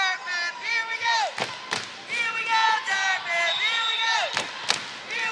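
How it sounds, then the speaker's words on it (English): Rowdy crowd at a high school girls' volleyball match, Dartmouth versus North Quincy, with excited shouting, whoops and voices overlapping, punctuated by a few sharp thumps from the gym floor. "And the crowd is pretty rowdy."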